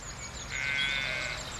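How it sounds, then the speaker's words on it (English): A sheep bleating among ewes and lambs in a field on a Cotswolds country walk, one faint wavering call in the middle over quiet outdoor background. "I don't know what type of sheep they are, though."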